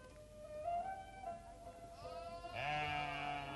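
Herd of sheep and goats bleating together, several overlapping wavering calls rising and falling, near and fairly loud, with a louder bleat joining toward the end.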